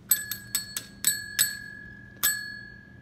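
A small bell rung in quick repeated strikes, about five bright rings in the first second and a half, then one more after a pause, each with a clear sustained tone; close and alone.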